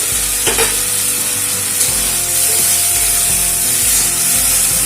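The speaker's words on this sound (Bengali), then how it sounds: "ভেজে রাখা আলুগুলো দিয়ে দেবো।" Fried potatoes tumble into a loudly sizzling pan of spices for a fish curry with potatoes, giving a steady close frying hiss with stirring scrapes throughout and no talking.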